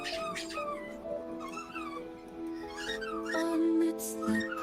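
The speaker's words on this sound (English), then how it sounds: "She wants to play, so she keeps bringing me her squeaky toy." A dog squeezing a squeaky toy over and over during play, the high rubbery squeaks repeating in quick bursts against a steady background hum.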